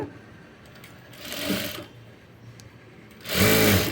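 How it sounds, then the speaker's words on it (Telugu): A domestic sewing machine stitches fabric in bursts, its motor whirring up and dropping back between runs, ending in a louder, steady stretch of stitching close by. "ఇలా నీట్గా కుట్టుకుంటూ వచ్చేయాలి"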